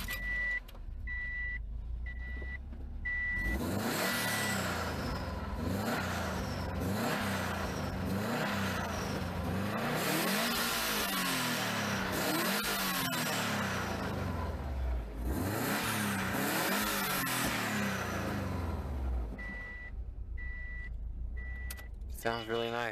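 Chimes beep, then a Subaru Impreza WRX STI turbo four-cylinder engine cranks, catches and revs up and down several times close by before settling, with beeping returning at the end.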